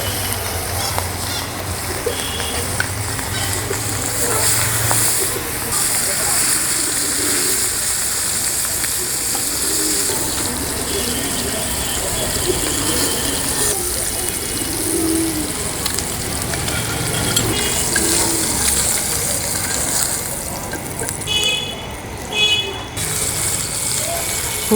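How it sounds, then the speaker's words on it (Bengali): Big rohu fish from the Karatoya river frying in oil in a village kitchen, a steady, dense sizzle running the whole time with a few faint clinks near the end. "মাছ ভাজা শেষ, এখন কড়াই দিয়ে দিচ্ছি।"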